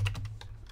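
Keys clatter on a computer keyboard in a short run of quick, close taps under a low background hum, with no voice.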